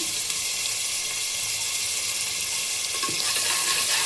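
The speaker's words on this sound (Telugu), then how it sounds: "ఆనియన్స్ బాగా ఫ్రై అయిన తర్వాత కొంచెం అల్లం వెల్లుల్లి పేస్ట్ అయితే వేసేస్తున్నాం." Ginger garlic paste frying with onions in a pan for mutton dum biryani, a steady close sizzle holding at even loudness throughout with a faint clink near the end.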